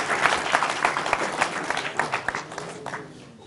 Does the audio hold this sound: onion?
no